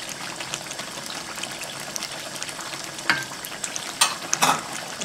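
Double cream with fried onions stirred into a prawn masala, a low steady sizzle and wet stirring, with a few sharp spoon clinks toward the end and no talking.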